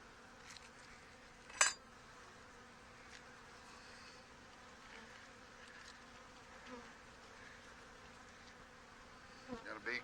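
Honey bees buzzing around an opened backyard hive as boxes are shaken out, a steady low drone with scattered nearby clinks and handling knocks, no talk.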